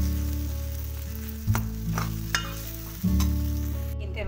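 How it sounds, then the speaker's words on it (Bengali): A spice masala for soybeans is stirred and fried with a ladle, a steady close sizzle punctuated by a few sharp scrapes and knocks of the ladle against the pan over a low hum. "আমি কিছুক্ষণ এটা ভালো করে মশলার সাথে মিশিয়ে কষিয়ে নিচ্ছি"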